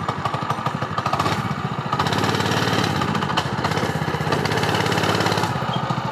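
The small engine of a homemade amphibious kart runs close by with a loud, buzzing, rattly drone that surges and revs briefly, with no voices over it.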